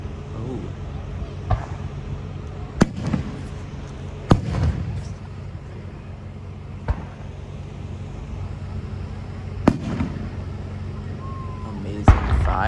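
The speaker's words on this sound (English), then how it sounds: "Amazing fireworks." Fourth of July fireworks burst at a distance, with about half a dozen sharp booms and cracks spaced irregularly over a low ambient rumble, while people murmur in the background.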